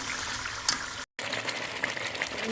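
Spinach and potato pieces still holding water splutter and sizzle as they fry in a pan for aloo palak sabzi. A dense, continuous crackling hiss is broken by a split-second gap partway through.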